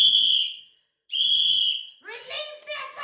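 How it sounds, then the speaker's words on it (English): Shrill whistle blown in two long, loud blasts separated by a short pause, followed by an excited, high-pitched voice. "can't get the whistle in my mouth fast enough."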